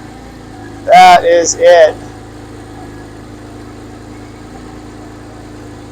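A 2002 Porsche GT2 engine settles into a low, steady idle rumble that runs throughout, with a person speaking briefly near the start.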